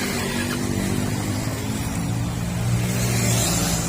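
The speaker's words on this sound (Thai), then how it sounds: "ฟังเสียงเครื่องยนต์นะครับ" Vespa Primavera 150cc scooter from 2018 with about 2,200 km, engine idling steadily and continuously beside a roadside shop, with a low steady hum and faint traffic noise behind it.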